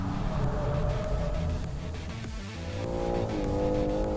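A BMW M3 Competition and an electric BMW i4 M50 run together on Rockingham Racetrack, giving a continuous loud engine drone with shifting pitch, a brief dip midway and a rising tone near the end.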